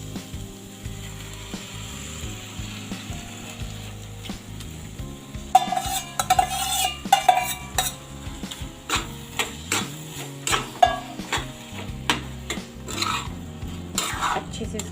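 Vegetables for pav bhaji are stirred in a pan, with a soft sizzle beneath repeated scraping and clinking strokes of a utensil against the metal, fairly close and moderately quiet, with no talking.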